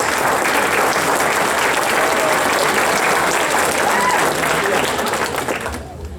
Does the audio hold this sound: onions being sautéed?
no